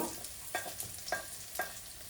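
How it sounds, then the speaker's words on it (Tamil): Cumin seeds and curry leaves sizzling in hot oil, a steady close hiss broken by three brief crackling bursts spaced about half a second apart. "பெரிய சீரகத்தை முதல்ல போட்டுட்டு கருவேப்பிலையும் போட்டுட்டு"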